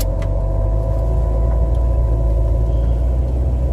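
Steady low engine rumble from inside a car pulling out into traffic, a constant dense drone with no rising revs clearly apparent, no voices.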